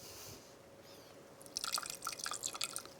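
A little water trickles in small drips and splashes into hot cream and chocolate for a chocolate raspberry tart, a quiet spattering burst that starts after a silent moment and stays soft and close.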